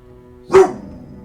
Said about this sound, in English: Even the dog's excited, man.